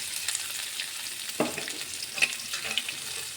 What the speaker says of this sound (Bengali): এখন আমি কেটে রাখা পেঁয়াজ কুচিগুলো দিয়ে দেবো।